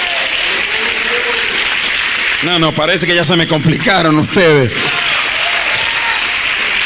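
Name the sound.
church congregation applause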